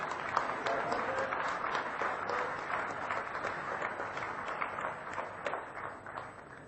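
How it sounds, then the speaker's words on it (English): Steady applause from a large audience at an automotive industry award ceremony, a dense continuous patter of many hands clapping at moderate level for several seconds, with no voices over it. "may I please request you to kindly be liberal with your applause"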